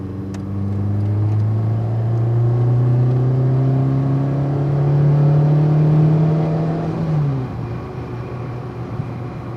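A phase 1 Peugeot 106 Rallye accelerates hard to overtake a tractor, its engine note climbing steadily and loud for several seconds before the revs drop sharply near the end.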